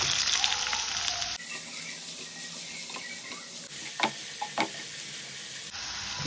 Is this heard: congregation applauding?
no